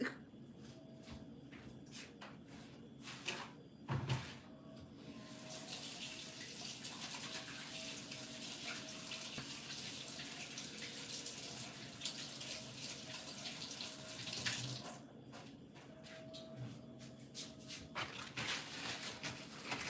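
Tap water runs steadily from a faucet for washing something off, with a few brief pauses and clatters where the flow is interrupted; no voices.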